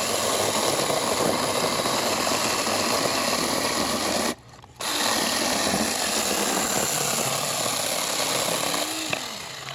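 A VELOTREX mini cordless chainsaw cuts through hardwood with a steady, dense buzzing whine. The sound is nearly continuous, with one brief drop in the middle and a small rising tone near the end.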